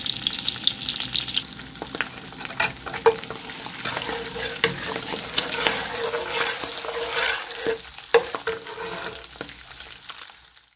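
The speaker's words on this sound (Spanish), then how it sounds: "Cuando ya esté bien caliente le vamos a poner el chorizo y lo vamos a freír" Chorizo frying in a hot pan, a steady bright sizzle with stirring scrapes and a few metallic clinks of utensil on pan, close and continuous with no talk.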